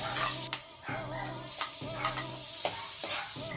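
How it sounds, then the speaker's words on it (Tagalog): Chopped garlic and onion frying in melted butter in a pan for creamy tuna carbonara, a steady close sizzle broken by rhythmic scraping stirs, with no talking. "Melt the butter, tapos lagyan na natin ang bawang at sibuyas."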